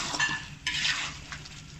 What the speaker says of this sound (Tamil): அப்படியே கிண்டி விடுங்க, அடி பிடிக்காமல் அப்படியே கிண்டி விடுங்க